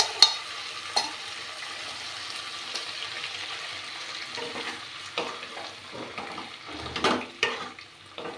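Soaked, partly cooked chana dal is fried and stirred in a pan, producing a soft continuous sizzle under intermittent spoon scrapes and taps that grow busier toward the end, close by and with no talking.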